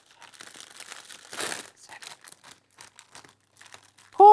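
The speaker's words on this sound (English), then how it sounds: "Open the packet of vegetable mix. You might be able to pull it open or use some scissors." A plastic packet of vegetable mix crinkles and tears in short, scattered bursts, with one louder rip in the middle, close by and otherwise quiet.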